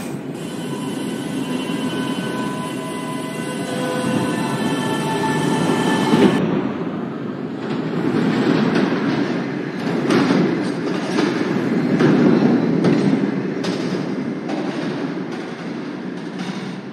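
A Manhattan-bound F express subway train rumbles loudly through the tunnel into 21st Street–Queensbridge station in New York, with rhythmic clacks and thumps of wheels over rail joints.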